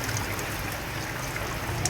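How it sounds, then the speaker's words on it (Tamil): Floodwater from an overflowing pond runs along the streets of Nagapattinam after heavy rain. It makes a continuous rushing, trickling flow at a steady level, with no one talking over it. "குளம் நிரம்பி சாலைகளில் மழைநீர் பெருக்கெடுத்து ஓடி வரக்கூடிய அந்த காட்சிகளை பார்த்து வருகிறோம்"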